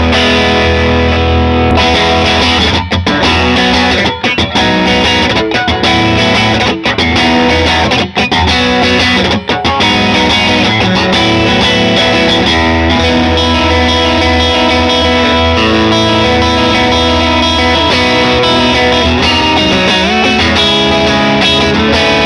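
Loud, continuous electric guitar run through a Halcyon overdrive pedal, strummed chords and sustained notes with thick distorted crunch, playing alone without talk in a Shimamura music store.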